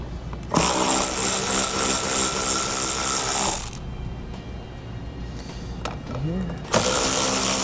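A power tool with a 7mm socket backs out mirror bolts on a 2014 Chevrolet, a loud steady whir running for about three seconds, then quieter handling sounds and a brief voice before the whir starts again.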